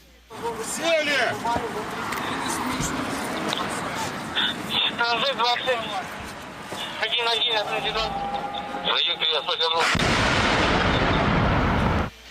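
Heavy booming explosions from Russian strikes on Kherson, Ukraine, and bursts of gunfire rumble through, with people talking over them and a long, loud blast near the end.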